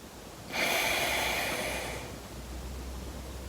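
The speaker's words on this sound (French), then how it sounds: "On va boucher sa narine gauche et on expire avec la narine droite." A single long, close exhale blows out through one nostril during alternate nostril breathing, a soft airy rush that fades over about a second and a half, with no voices.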